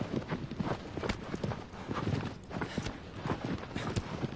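Horse hooves gallop in a rapid, continuous clip-clop rhythm in the game Shadow of the Colossus, close and steady with no pauses.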